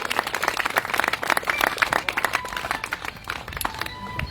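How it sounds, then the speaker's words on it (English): Crowd at an Armed Forces Day program in Delavan, Wisconsin applauding for the Coast Guard, a lively mix of many hands clapping with uneven bursts, close and fairly loud. "we'll applaud for the Coast Guard anyway"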